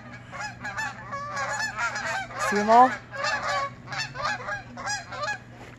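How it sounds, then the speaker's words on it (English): Flock of geese honking directly overhead in fog, repeated nasal calls overlapping in bursts, fairly close and loud, with a brief spoken remark among them. "I just love the geese."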